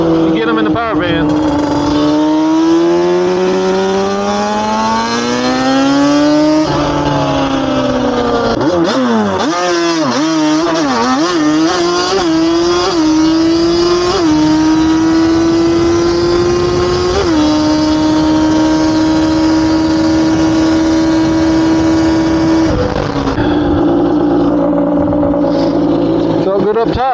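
A Yamaha Banshee ATV fitted with aftermarket exhaust pipes revs hard and loud, its two-stroke engine note climbing and falling through repeated throttle sweeps, close up and steady throughout, with someone talking over it.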